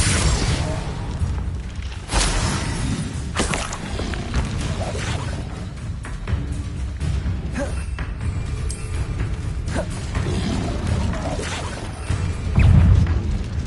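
Spell blasts and magical combat from Hogwarts Legacy fill a dense, loud mix of booms and crashes, with heavy rumbling impacts throughout and a stronger burst near the end.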